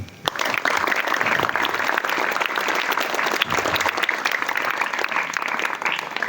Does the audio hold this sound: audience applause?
yes